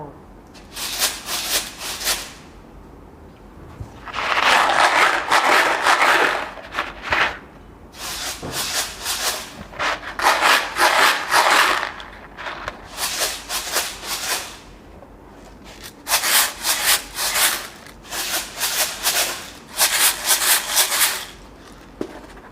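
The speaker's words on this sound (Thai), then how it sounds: "ทำงานกับจานเขย่าเสียงค่ะ" Rattling, gritty shaking bursts repeat in short rhythmic bouts with brief pauses between, close by, as Montessori sound shaker boxes filled with grains are shaken.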